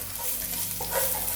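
Freshly chopped ginger and garlic fry in a pan over a medium flame, a soft, steady sizzle with light stirring, close and fairly quiet, with no talking.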